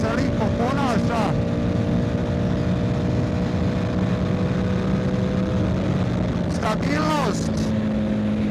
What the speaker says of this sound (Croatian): Znači motor sa u 6. brzini, pogledajte na otvaranje gasa kako se lipo ponaša.